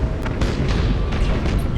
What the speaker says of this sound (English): there are coming a lot of torpedoes there